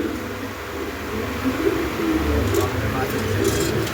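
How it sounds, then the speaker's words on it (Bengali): Large pigeons at a pigeon seller's stall give low, repeated coos under a steady hum of background talk and crowd noise. "সুন্দর একটা কবুতর, বিগ সাইজ"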